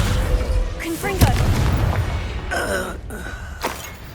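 A Confringo spell blast in Hogwarts Legacy, a loud fiery burst followed by crackling debris and a few short magical whooshes, with a voice grunting and speaking around it.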